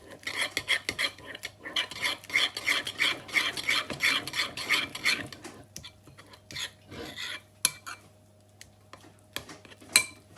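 An egg is beaten in a bowl for baked oats, with a fork rattling and scraping quickly against the bowl in fast, busy bursts for several seconds, then slowing into sparse taps, close up with no voices.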